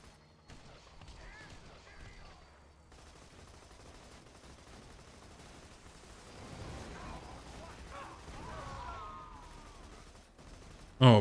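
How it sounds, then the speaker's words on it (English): Gunfire in the video game Borderlands 2, with steady sustained shooting and mechanical clatter at a moderate level, building toward a sharp loud burst at the very end. "Are you shooting at me?"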